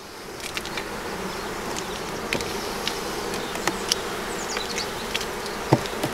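Honey bees buzzing around an open hive during a spring inspection, a steady close drone with individual bees zipping past the listener, no voices.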